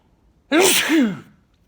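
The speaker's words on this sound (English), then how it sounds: "I'm about to sneeze." A single loud, sharp sneeze bursts out close by, then the silence returns.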